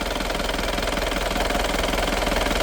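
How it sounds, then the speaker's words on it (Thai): A single-cab pickup's diesel engine idles close by with a steady, rapid knocking clatter and constant rumble, no voices. "เครื่องยนต์ ฟังเสียงครับ"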